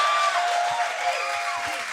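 Audience at a live podcast anniversary show in Los Angeles breaks into applause, a dense even roar of clapping for about two seconds, with faint voices underneath.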